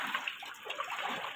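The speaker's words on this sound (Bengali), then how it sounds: "এখনো বৃষ্টি পড়তেছে," Rain falling steadily on a flooded Dhaka lane during a heavy spring downpour, a dense watery hiss with soft splashes, close and continuous, with no voices.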